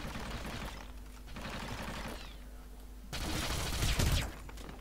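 Rapid bursts of gunfire crackle at low volume against a steady background hum, swelling louder toward the end, in the video game Hitman: Absolution.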